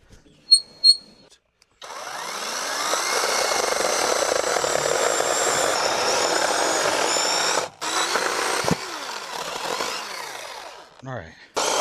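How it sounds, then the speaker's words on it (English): A small battery-powered chainsaw on a sawmill attachment revs up and cuts wood steadily for several seconds, whining loudly, then drops off briefly and buzzes again in short bursts. "Hopefully our chainsaw, our CC saw has enough juice."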